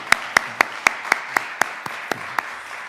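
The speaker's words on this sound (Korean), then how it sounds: "한번 환영의 박수 한번 해주시면 감사하겠습니다" Welcome applause in a Korean church service, crisp individual claps falling in a steady even rhythm, about four per second, close and clear with little else behind them.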